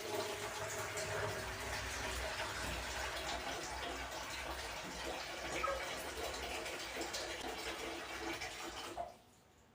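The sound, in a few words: pouring cold water into a basin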